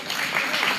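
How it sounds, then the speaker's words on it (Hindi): Students in a class 9 and 10 school quiz competition applaud a correct answer, a dense burst of clapping filling the whole short moment at steady loudness. "ताली वाले बजा दो।"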